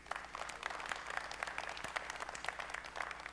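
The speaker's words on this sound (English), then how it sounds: "So your round of applause for Ellen van Eeren, Leon Marshall, Alain Rigy" Applause from a seminar audience at a EuroTier livestock trade fair session on poultry gut health, a continuous patter of individual claps, fairly faint and distant, with no one speaking.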